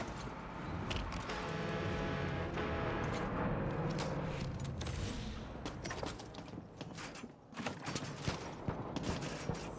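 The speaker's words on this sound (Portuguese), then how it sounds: "Ah, estão aos tiros!" In the jungle-island shooter Far Cry 6, dense bursts of gunfire crackle at mid distance in rapid, irregular volleys over a rumbling game soundscape, growing sparser and more scattered toward the end.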